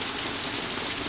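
Hail pelts down hard on a flooded yard in a dense, steady roar of impacts that fills the whole scene with no gaps.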